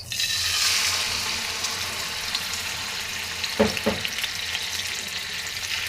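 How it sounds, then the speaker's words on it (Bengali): Prawns frying in hot oil in a heated wok give a loud, continuous close sizzle, with a pair of brief stirring knocks partway through. "চিংড়ি মাছটাকে আমি কিছুক্ষণ ভেজে নেব"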